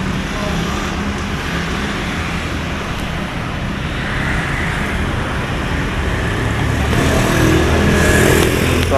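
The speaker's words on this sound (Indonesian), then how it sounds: "Suasana rame, lalu lalang mobil." Busy street traffic in Samarinda with cars going by. A steady, loud roadway rumble runs throughout and swells toward the end as a vehicle passes close.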